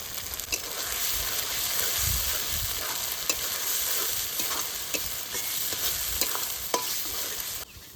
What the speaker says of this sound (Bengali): মশলাটা ভালো করে কষিয়ে নিয়েছি আর একটু জল দিয়ে দেবো